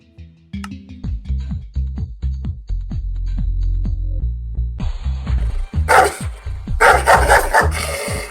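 A dog barks repeatedly in quick bursts, close and loud, at a party while music plays in the background and grows louder and busier toward the end.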